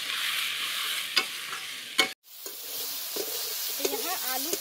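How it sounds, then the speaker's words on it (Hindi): Potato pieces fry in a pan with salt and turmeric. A close, continuous sizzle runs under occasional utensil clicks, cuts out briefly near the middle, then returns with light scraping. "तो यहाँ आलू को नमक हल्दी के साथ एक मिनट तक फ्राई करें"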